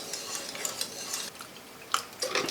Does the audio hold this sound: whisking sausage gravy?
yes